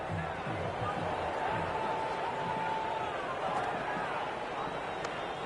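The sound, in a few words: cricket crowd cheering in video game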